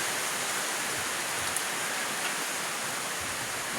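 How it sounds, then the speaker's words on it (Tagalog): Heavy afternoon rain pours down in a dense, loud, unbroken hiss, steady throughout with no pauses and no voices. "grabe ng kusuga sa ulan"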